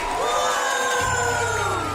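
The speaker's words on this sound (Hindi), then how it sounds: "चलो सब तालियों से उनकी विदाई करो।" Studio audience on a large-scale game show cheers and whoops loudly and continuously, a dense crowd roar sending off eliminated pairs, with no clear clapping standing out.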